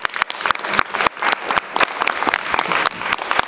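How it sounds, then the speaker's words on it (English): An audience at a community event gives a round of applause to a speaker: loud, close clapping with sharp individual claps standing out over the dense crowd patter, continuous for the whole stretch. "Give Grace a big round of applause."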